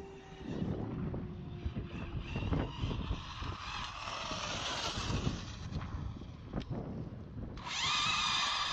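Losi Super Baja Rey RC car on 6S at full throttle, a rising engine-like whine with rough wind-buffeted rumble, moderately distant, ending in a sharp high motor whine.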